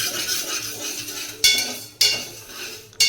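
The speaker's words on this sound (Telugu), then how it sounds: "దోరగా అయితే ఫ్రై చేసేసుకోవాలండి" A metal spoon stirs and scrapes in a pan while frying ingredients for sweet pongal, with three sharp, close clinks against the pan over a low background hiss, no voices.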